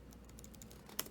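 Rapid keystrokes on a laptop keyboard as an IP address is entered, a quick run of light clicks at close range ending in a sharper key tap, with no talking.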